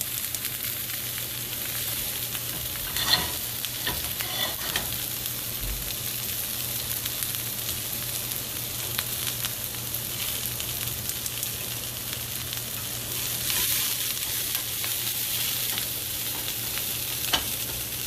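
Food sautéing in a pan, a steady low sizzle running throughout with occasional clinks and stirring scrapes, close and moderately loud, no talking.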